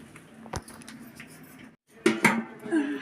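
A lid goes onto a chicken biryani pot with a sharp metallic clink, then a louder cluster of clanks and scrapes as it settles, close and brief, with a faint voice murmuring in the background.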